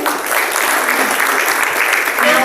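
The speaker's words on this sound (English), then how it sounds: "let's have a round of applause for him" An audience at a medical conference session applauds a speaker, with loud, continuous clapping throughout and a faint voice emerging near the end.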